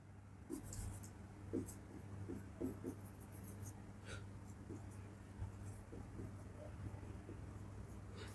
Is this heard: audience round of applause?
no